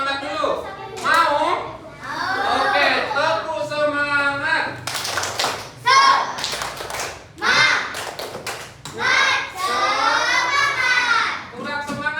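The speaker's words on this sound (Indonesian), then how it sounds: "Ayo, so biar semangat kita" Students in a classroom beat out a rhythmic spirit clap, with sharp clusters of hand claps and thumps mixed into loud chanting children's voices, close and lively throughout.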